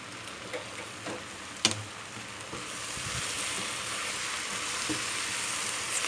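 Meat and onions with hot peppers sizzling and frying steadily in a pan for a stew, with a sharp clatter of stirring near the start and a continuous hiss throughout.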